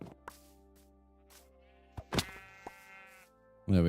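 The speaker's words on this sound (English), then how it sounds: "Fucking sheep." Sheep bleating in Minecraft: a few short, wavering bleats spread across a quiet stretch, with one louder, nearby bleat near the middle and a sharp louder sound at the end.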